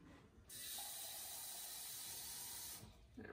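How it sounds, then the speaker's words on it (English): Water gushes from a tap into a container in a kitchen-style setting, a steady hissing rush lasting about two seconds before it is shut off, fairly quiet and with no talk. "Let me fill up my water."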